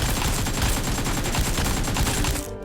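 An AKM rifle hip-fired in PUBG Mobile, a loud, continuous full-auto spray of tightly spaced shots lasting over two seconds before cutting off, with no talking.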